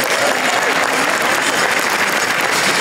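A crowd claps steadily and densely throughout, a continuous wash of applause for the Spring Creek Dancers at a soccer day event in Toronto.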